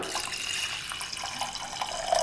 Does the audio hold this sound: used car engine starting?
no